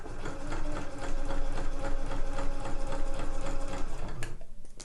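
A sewing machine stitching a cushion cover seam runs in a fast, even chatter for about four seconds close to the microphone, then stops abruptly with a soft click.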